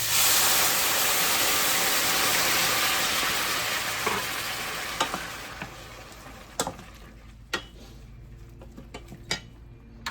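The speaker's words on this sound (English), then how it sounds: "Now I'm going to add some water." Water poured into a hot frying pan with bell peppers for sweet and sour pompano fish sizzles loudly at first, then fades over several seconds into softer crackles and a few sharp pops and clinks.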